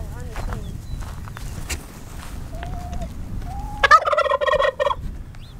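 A turkey struts in the rain, soft drumming and shuffling footsteps giving way to a loud, close rattling gobble near the end, with faint voices in the background.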